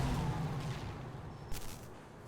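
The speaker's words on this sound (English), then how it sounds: "I never get tired of seeing these explosions." Explosions in the video game Power to the People, a dense continuous rumbling fusillade of booms with a sharper blast near the end, loud and sustained without talk.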